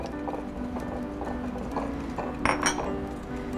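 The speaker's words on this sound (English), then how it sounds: "we're just going to whisk those around a little bit just to get them mixed up" A whisk works through ingredients in a mixing bowl for apple cake, a steady run of light scraping taps with a few sharper metallic clinks near the end, close and fairly quiet.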